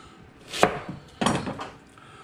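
A knife chops through an onion on a kitchen board in two sharp, close strikes about half a second apart, with quiet between them.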